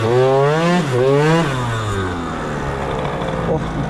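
A scooter with a new exhaust revs hard and close, twice bouncing quickly against the rev limiter in sharp rising-and-dipping bursts, then drops to a lower, rougher engine note.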